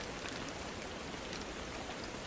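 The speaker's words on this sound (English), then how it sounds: "thick droplets drumming against the cobblestones, the rhythm steady and hypnotic" Heavy rain drums on cobblestones in a steady, dense hiss of droplets that stays even and close for the whole stretch, with no voices.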